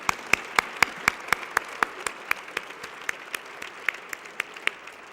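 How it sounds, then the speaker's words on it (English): Sparse applause for the MARTA Board of Directors at a transit authority address: a handful of sharp, distinct hand claps in a quick, fairly even rhythm over about five seconds, with a light murmur of softer clapping between them. "I want to make sure we give the MARTA Board of Directors a very vigorous round of applause"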